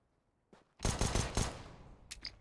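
Rapid gunfire in a competitive video game match: a short burst of close, loud shots fired in quick succession, followed by a few scattered trailing shots.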